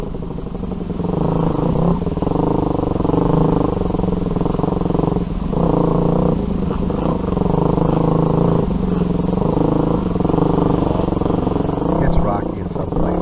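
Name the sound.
group of trail motorcycles riding along a rocky trail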